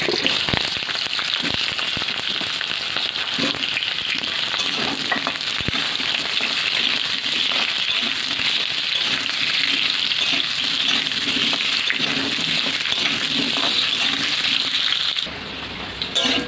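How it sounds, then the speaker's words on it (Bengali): Cut potatoes fry in hot oil in a pan, giving a dense, steady close sizzle with scattered crackles and pops that continues unbroken, with no speech over it. "তো এবার ওই তেলের মধ্যে কেটে রাখা আলুটা ভেজে নেব।"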